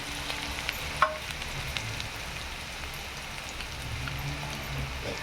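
Garlic and onion fry in a pan, giving a soft, continuous sizzle with a faint clink early on.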